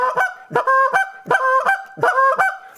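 Haydel goose call blown to imitate honking geese, loud close honks coming in quick pairs and triplets with a steady, excited rhythm and no talking.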